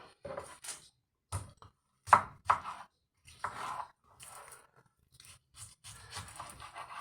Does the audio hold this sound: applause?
no